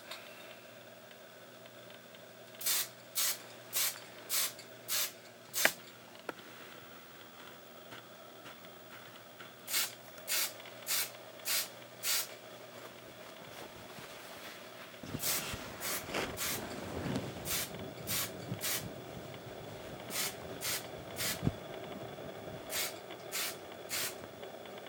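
Short spray bursts from an airbrush or paint can coating a model truck fender, hissing in quick regular groups of five or so, close by over a faint background hum.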